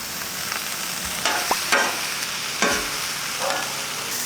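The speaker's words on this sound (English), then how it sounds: "Let's put our small onion and our bell pepper down to grill up." Onion and bell pepper sizzle on a hot grill beside a ribeye, a loud close crackling hiss with bursts of stronger spitting as pieces are laid down and moved.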